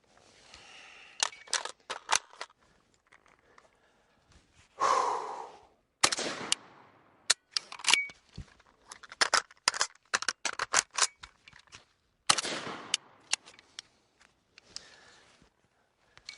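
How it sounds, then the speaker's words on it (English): A Kalashnikov rifle reloaded in a workspace: sparse, crisp metallic clicks and clacks of magazine and bolt handling, separated by quiet pauses and occasional breathing, close by. "so those are your basic reloads there."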